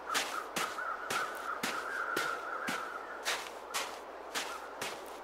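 Crows caw repeatedly in the snowy wilderness of The Long Dark, about ten harsh calls spaced fairly regularly, clear and fairly close against a quiet background.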